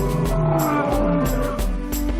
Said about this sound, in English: hear the sound of bison grazing on the lush grasses of the plains.